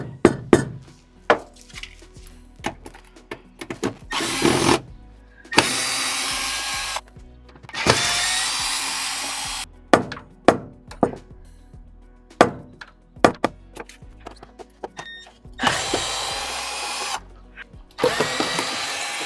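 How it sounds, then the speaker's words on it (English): Power tool undoing the bolts on the heater lines of a Toyota Supra, in loud bursts of whirring alternating with sharp metallic clanks and taps of parts and tools. "So I'm gonna unbolt those two, and I think that should release it."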